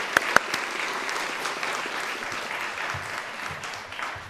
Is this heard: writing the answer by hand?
no